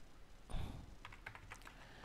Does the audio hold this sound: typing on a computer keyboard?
yes